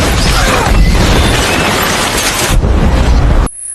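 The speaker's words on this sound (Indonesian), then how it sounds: "tiba-tiba helm tersebut aktif hingga meledakkan rumah." A house blows apart in a violent explosion from the film The Predator, a loud sustained roaring blast with crashing debris that cuts off abruptly.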